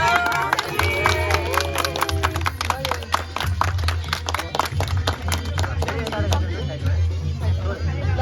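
Clapping bursts out among a crowd after the cake is cut at a grandparents' 52nd wedding anniversary celebration, dense applause and cheering mixed with lively chatter and a low music thump throughout.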